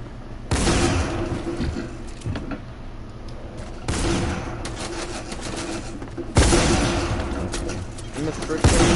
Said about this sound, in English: it sounds like a hand cannon just upgraded. Sounds deadlier.